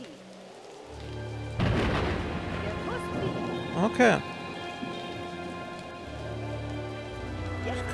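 Steady rain hisses over a game world in Desperados: Wanted Dead or Alive, with a low constant rumble, a louder crash near the second mark and a brief burst around the fourth; a single short word is spoken over it.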